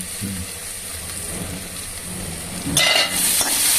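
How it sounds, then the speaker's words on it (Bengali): Potatoes fry in oil with a soft continuous sizzle that swells into a brighter, louder crackle toward the end, heard up close with no speech. "এই আলুগুলোকে ভেজে নিলাম লাল করে"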